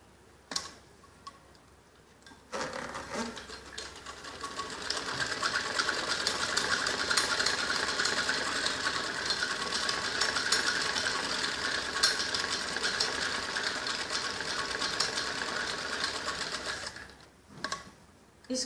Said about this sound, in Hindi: इसमें हम ऐसे सीधी सिलाई लगाते हैं।